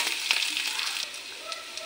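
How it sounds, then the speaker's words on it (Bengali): Crushed garlic and chopped ginger frying in oil, a close, bright crackling sizzle with scattered pops that eases slightly toward the end, with no voices. "এখন ভাজা করে নেব।"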